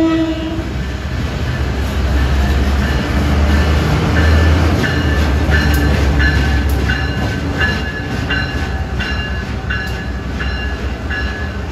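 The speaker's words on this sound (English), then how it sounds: "Got some kind of a work train backing up here." A heavy work train backs up, rumbling and clattering along the track at close range, with a steady low engine drone and rhythmic clicking of wheels over rail joints.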